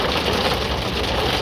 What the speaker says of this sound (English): It's very heavy rain